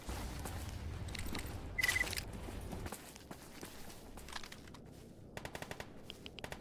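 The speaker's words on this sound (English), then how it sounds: "I'm hearing gunfire come from that direction." Gunfire in the video game Stalker GAMMA, heard as distant bursts and single shots with a loud burst near the two-second mark, then a quieter stretch and a rapid string of cracks toward the end.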